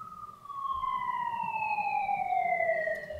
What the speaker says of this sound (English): I think the old siren thing is on purpose because of the theme of the episode